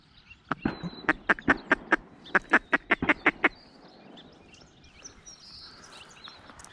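A northern shoveler duck quacks in a marsh on public hunting land on opening day. A rapid series of about a dozen short, nasal quacks comes in two bursts, fairly close, then fades to quiet marsh ambience.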